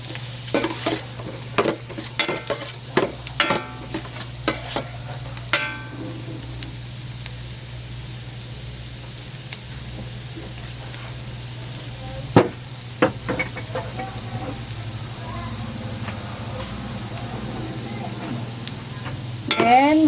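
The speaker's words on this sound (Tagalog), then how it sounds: "Lutuin lang natin yung bawang." Garlic fries in a pan with a soft, steady sizzle while a utensil stirs and clinks against the metal in bursts, close and fairly quiet, with no talk.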